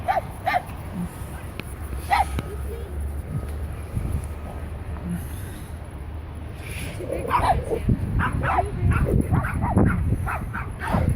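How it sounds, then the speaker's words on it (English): Dogs at a park in Liberty Village bark, yip and growl at one another at moderate distance, the sounds scattered and intermittent beneath a person talking and outdoor ambience. "Oh, these ones are all growling at each other."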